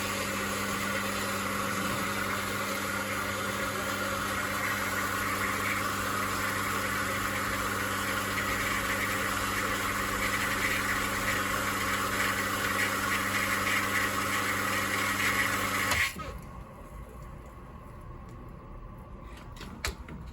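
A rainwater pressure pump with a fault that makes it cycle on and off runs with a steady loud hum and buzz for about sixteen seconds, then cuts out, leaving a quieter background.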